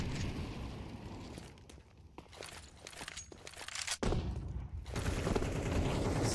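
Gunfire in a Counter-Strike pro match during a wallbang, rapid bursts of shots cracking through the scene with sharp transients, a loud close shot near the end followed by renewed dense firing, no voices.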